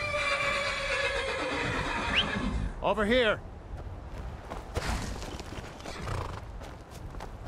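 A horse in the Skyrim video game gives a loud, wavering neigh in the middle of the clip, with clip-clopping hooves around it, while someone shouts and talks over the scene.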